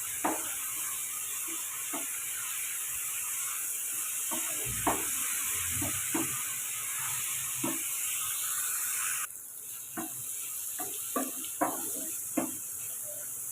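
Long beans and onions sautéing in a pan give a low continuous sizzle, punctuated by scattered sharp clicks and scrapes of a spatula at uneven intervals, close and fairly quiet, with a faint high whine running through.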